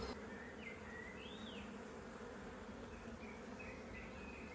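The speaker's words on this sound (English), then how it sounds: "it's a good strong colony this actually, considering it was just an overwintered nuke" Honey bees buzz continuously in an opened hive colony, a strong overwintered nuc, a dense steady drone close by with no talk.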